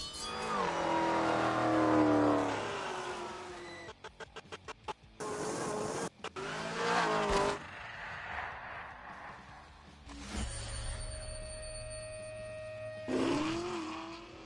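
A 1,000-horsepower Hennessy-tuned Chevrolet Camaro engine roars and revs hard, with sharp stuttering bursts and a loud drone that fades and swells again.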